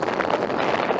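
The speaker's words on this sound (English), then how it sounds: "It's very windy." Cold wind buffets the microphone outdoors, a steady broadband rumble and roar that fills the whole second without any talking.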